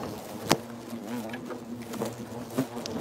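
Asian hornets buzzing close by, a steady insect drone with a few sharp taps and patters rising briefly above it, and no talking.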